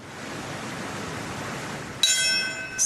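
A steady wash of background noise, then a single memorial bell for September 11 strikes near the end and rings on with clear, lingering tones.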